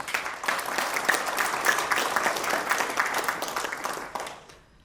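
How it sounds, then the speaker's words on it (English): An audience applauds a magazine team at an event, with sustained, fairly loud clapping from many people filling the hall before tapering off at the end. "They really deserve a round of praise and applause"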